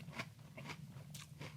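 Chewy chocolate granola cereal with crispy clusters and milk is bitten and chewed close to the mic, giving four short crunchy bursts over a steady low hum.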